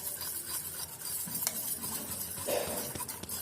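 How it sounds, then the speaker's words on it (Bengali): Fritter batter for cauliflower fritters being stirred with baking soda, a soft steady scraping and swishing of batter against a bowl with a few light clinks, close and quiet, no talking. "খাবার সোডা দিয়ে ভালো করে মিক্সড করে নিচ্ছি"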